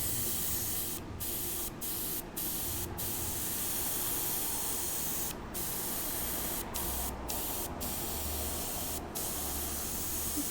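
An airbrush sprays alcohol ink in a steady, faint hiss, broken by several short pauses as the trigger is released and pressed again.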